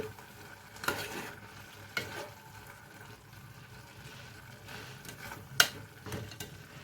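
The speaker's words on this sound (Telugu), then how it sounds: "బాగా మిక్స్ చేయాలండి" A chicken and broad bean curry is stirred in a pan, soft scraping and stirring under a low background hiss, with a few sharper clanks from the spoon against the pan, the loudest near the end.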